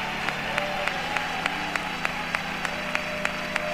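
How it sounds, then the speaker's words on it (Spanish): Church congregation at a worship service clapping together, a steady series of evenly spaced claps at a moderate pace, fairly faint over a low background hum. "denle un aplauso al que vive para siempre"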